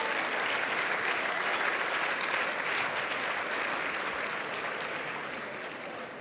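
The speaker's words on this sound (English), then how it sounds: "So a round of applause for the elected leaders in the room tonight." A dinner audience at an environmental leadership event claps steadily for the elected leaders present, a dense, even wash of applause that slowly tapers toward the end.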